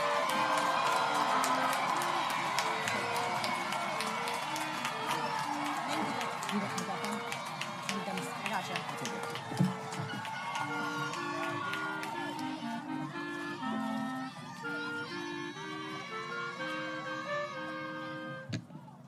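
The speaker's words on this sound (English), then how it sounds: "Can we get a round of applause for row 5?" Graduation-ceremony audience applauding a row of high school graduates, a steady wash of clapping and scattered cheers running throughout under sustained tonal music from live accompaniment.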